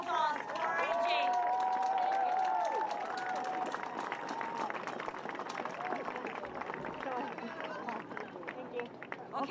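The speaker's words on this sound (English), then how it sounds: "Everybody, a round of applause for AJ." A crowd at an Asian-American rally in Manhattan applauds and cheers for AJ, clapping and whoops mixed with chatter and a voice over a loudspeaker, continuing unevenly throughout.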